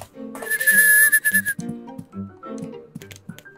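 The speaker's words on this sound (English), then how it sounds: "Something is whistling." A high, sustained whistled tone from the video game Rule of Rose rings out for about a second and then stops, leaving quieter low game sounds and soft thumps behind it.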